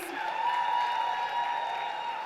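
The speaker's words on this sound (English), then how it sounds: "Can we applaud her, please?" Audience applause for a systems administrator at a security summit talk, a steady sustained wash of clapping across the whole stretch with no voices over it.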